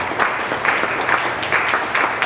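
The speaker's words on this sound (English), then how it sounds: "Let's give a great applause for her." Audience applause at a West Louisville economic mobility summit: a steady wash of clapping from a crowd, fairly loud and continuous, with no break across its length.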